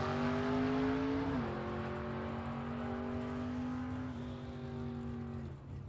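A 1955 Chevy gasser drag car with a straight axle and 4-speed transmission holds a loud, steady engine drone at a South Georgia Motorsports Park drag strip, the pitch dipping with each gear change.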